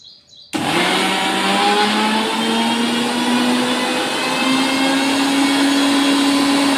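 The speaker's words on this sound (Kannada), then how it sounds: "ಇನ್ನೊಂದ್ಸಲ ಇದನ್ನು ಗ್ರೈಂಡ್ ಮಾಡಮ್ರಿ" An electric mixer grinder (mixie) whirs loudly and steadily as it grinds spice powder for a Nag Panchami festival dish, starting abruptly after a brief quiet moment and running at a constant high-pitched drone.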